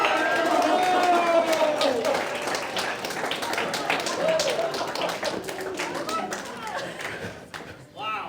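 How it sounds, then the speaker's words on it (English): An audience at a mentalist show claps in a dense, steady round of applause, with voices and cheers mixed in throughout and the clapping thinning out toward the end. "Give her a round of applause, everybody."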